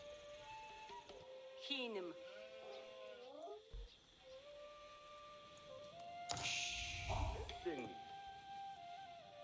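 Sheep bleat in the Age of Empires 4 video game, a few short wavering calls standing out from the game's background sounds and music, with a voice talking alongside.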